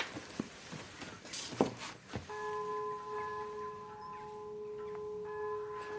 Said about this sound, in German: Was ist denn das für eine Glocke?